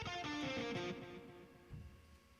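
A short electric guitar phrase with a delay effect, notes repeating and trailing away as echoes, fading gradually into soft repeats before a low thump.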